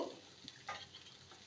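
Potatoes and fenugreek leaves with cumin, coriander and chili powder stir-fry faintly in a pan, giving a soft, brief sizzle with a few light scrapes of stirring.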